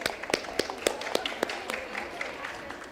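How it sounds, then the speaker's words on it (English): Round of applause at a women's finance forum, with sharp separate claps from a smallish audience at a steady, uneven rhythm, quieter and fairly close. "a warm round of applause if we all can for Ibu Amida and Minister Linda for their remarks as well"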